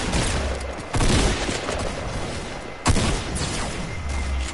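Two sharp, loud gunshot bursts ring out in an online shooter game about two seconds apart, each over a dense, noisy game background, with no voices in between.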